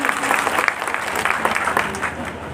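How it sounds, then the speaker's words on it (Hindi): A crowd at a political gathering in Baldevgarh applauds the organising committee with a dense, steady wash of hand-claps that holds at even loudness for the full stretch, with faint voices mixed in. "एक बार जोरदार तालियां आयोजन कमेटी के लिए।"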